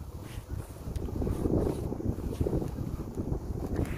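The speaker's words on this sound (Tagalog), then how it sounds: "Malakas naman yung hangin" Strong wind gusting outdoors at a windmill house in Korea, a low buffeting roar hitting the microphone continuously, fairly faint overall with no talk.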